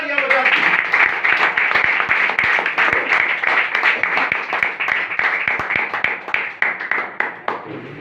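A church congregation claps loudly and rapidly in a continuous burst of applause, the clapping gradually thinning and becoming more separated toward the end.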